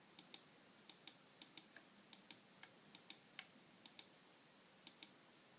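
Sharp, close mouse clicks, about twenty of them in quick irregular pairs and singles, clearing the loco settings on a model railway controller, with no voices.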